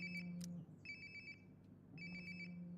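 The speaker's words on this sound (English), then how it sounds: "Sounds like my phone is definitely nearby." Phone ringing nearby in Life is Strange: Before the Storm, a trilling electronic ringtone repeating in two clear bursts separated by a short pause, over a steady low background hum.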